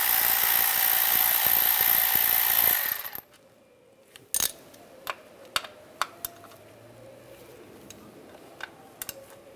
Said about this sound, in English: I'm going to use a T40 socket and take the bolts out.